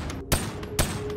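Gunfire from a turret in the VR game Boneworks: two sharp, loud bursts about half a second apart over a steady background hum, with no talking.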